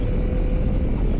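A 2023 Yamaha MT-09 motorcycle engine revs hard in a steady, loud, continuous roar with no talk over it.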